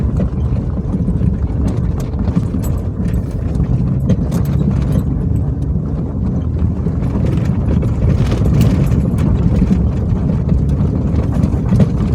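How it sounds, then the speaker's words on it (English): Jeep XJ driving on the road, with a dense, continuous rattle and clatter from the cabin over loud road and engine rumble throughout, no talking. "fix all that rattling noise"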